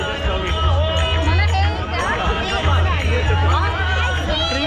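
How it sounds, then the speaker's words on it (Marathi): Dense crowd babble from many women around a pani puri stall at the Lalbaug food festival on Kamgar Maidan in Parel, Mumbai, a steady close hubbub of overlapping voices with no single clear speaker. "इथे महिलांची भरपूर गर्दी आहे पाणीपुरीसाठी"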